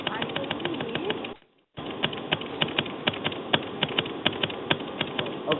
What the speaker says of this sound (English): Okay, so Somebody's typing.